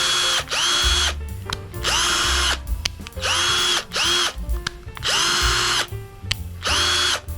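Cordless drill running in bursts at high and low speed, a loud whining motor that starts and stops roughly every second, each burst rising in pitch as it spins up.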